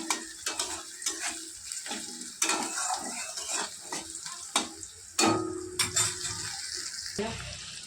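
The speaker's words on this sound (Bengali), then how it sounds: "নুনটা দিলে পেঁয়াজটা তাড়াতাড়ি ভাজা হয়ে যাবে।" Onions frying in a pan with salt, giving a steady sizzle broken by scrapes and clinks of a spatula or spoon stirring against the metal, close and moderately loud, with no talking.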